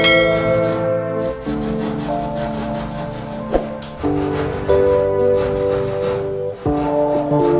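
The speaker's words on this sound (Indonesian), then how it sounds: "Gesekkanlah gergaji tersebut mengikuti tanda yang telah kita buat tadi hingga lubang plafon terbuka." A small hacksaw cuts a round hole in a ceiling panel, giving a continuous rasping, scraping stroke sound with brief pauses between strokes, close and fairly loud, with no talking.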